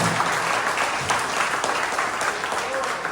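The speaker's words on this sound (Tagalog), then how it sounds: "Isang unang malakas na palakpak para sa ating Panginoon" A church congregation applauds the Lord during a worship service, producing a full, sustained roll of clapping from many people, with voices faintly mixed into the crowd noise.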